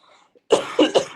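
A man coughs three times in quick succession, close and fairly loud, during a talk on Indigenous politics in Ecuador, after a brief quiet lead-in.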